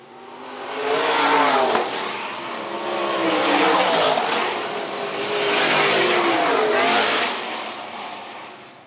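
Sprint cars race through a feature event at Phillips County Raceway, engines roaring loud as they pass near, swelling and fading in repeated waves of revving with occasional tire squeal.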